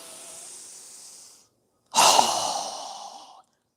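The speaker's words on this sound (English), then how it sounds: "Strong exhale." Strong exhale in a yoga breathing exercise: a long, steady breath is followed by a short pause, then a forceful, breathy rush of air that fades over about a second and a half, close and loud.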